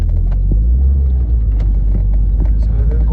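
A Ford RS2000 driven under turbo boost makes a deep, loud engine rumble with road noise, heard from inside the car, with a voice talking over it briefly.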